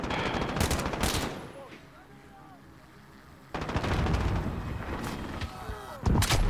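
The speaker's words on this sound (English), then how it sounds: "Enemy sentry gun active." Enemy sentry gun firing in Call of Duty Modern Warfare: loud, rapid bursts of automatic fire open the scene, go quiet for a couple of seconds, then resume as sustained close gunfire with a final heavy burst.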